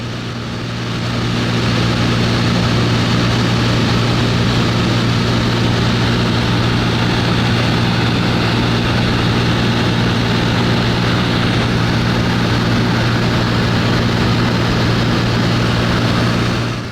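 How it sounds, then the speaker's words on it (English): A small propeller plane drones loudly and steadily as it flies in and lands on an Alaskan beach near a glacier, engine and prop noise constant and close throughout with no voices. "So we just landed on the beach with our plane"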